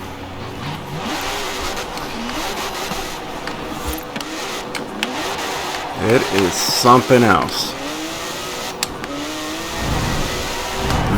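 A 1990 Porsche 911 engine in Forza Horizon 4 revs and pulls through gear changes, rising and falling in pitch with a louder surge midway, while someone talks over it.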